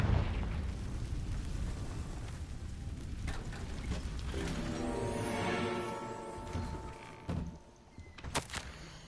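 A Confringo fire spell bursting in Hogwarts Legacy, a loud, rumbling explosive blast that spreads into crackling debris and fades, followed by a few sharp pops and crackles.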